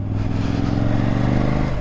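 A KTM 890 R Duke motorcycle engine pulls in third gear at about 20 mph, a steady, close, droning hum that climbs slightly before easing off near the end.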